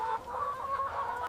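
Broiler chickens in an automated chicken mega factory clucking in a dense, continuous chorus of overlapping mid-pitched calls, close and steady with no talk.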